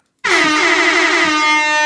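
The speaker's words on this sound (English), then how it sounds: "Air horn is coming." A single loud air horn sound effect blares after a brief silence, a sustained, brassy honk held steady for well over a second.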